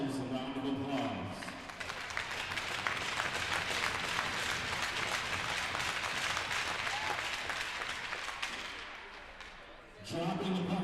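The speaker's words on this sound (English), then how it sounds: "Please give yourselves a round of applause." Broad, sustained applause fills an arena crowd at a high-school hockey game between the M&M Shamrocks and the Calumet Wolverines, lasting several seconds, with brief announcer talk before it begins and after it fades.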